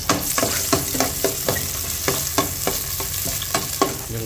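Garlic sizzling in hot oil in a pan while a spatula stirs it, steady frying hiss broken by regular scraping strokes roughly every half second, close and clear with no talking.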